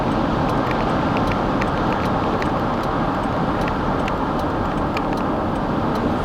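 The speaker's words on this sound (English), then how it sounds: "Traffic intersection over here." Road noise fills the cabin of a car moving through an intersection on Route 27, a loud, steady roar of tires and engine with no pauses.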